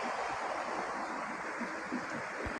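Creek water flowing steadily along a woodland trapping trail in a warm spell, a continuous broadband rush close to the microphone with light wind, no talking.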